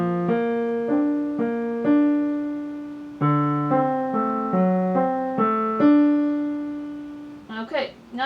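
Piano playing a single measure of a piece, a run of clear separate notes with some held longer, followed by a brief burst of talking at the end.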